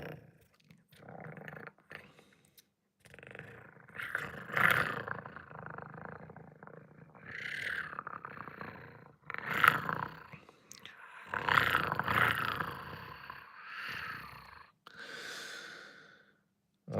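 A human voice imitates a cat purring, producing soft breathy rumbling purrs in irregular bursts separated by short pauses, close and fairly quiet.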